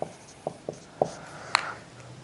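A pen scratches short strokes on paper while a free body diagram is hand-drawn, five quiet, separate marks at an uneven pace, close and alone with no talk.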